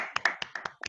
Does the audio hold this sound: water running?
no